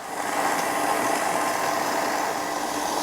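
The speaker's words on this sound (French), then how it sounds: "On commence à mélanger à petite vitesse." A stand mixer turns stollen dough at low speed, giving a steady, even motor hum with a soft rattle and no talking.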